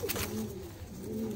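A female pigeon gives soft, low cooing notes close by, a few drawn-out calls in a quiet setting with no voices.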